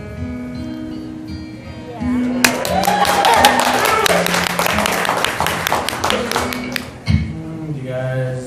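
An audience at a live music show in a venue breaks into a burst of clapping that lasts several seconds, set against sustained instrumental notes, then fades back to the music.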